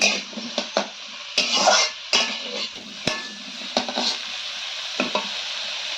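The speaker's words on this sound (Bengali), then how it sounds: "কুঁদরিটা দিয়ে নাড়াচাড়া করে নেওয়ার পর এখন দিয়ে দিচ্ছি এর মধ্যে টমেটো কুচি" Ivy gourd with chopped tomato frying in a pan, stirred with a utensil that scrapes and knocks against the metal in irregular strokes over a continuous close sizzle.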